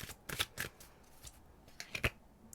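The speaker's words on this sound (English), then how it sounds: "you see me shuffling" Tarot cards being shuffled by hand, a few quick papery riffles and flicks close by, soft and brief with short pauses between bursts and no talking.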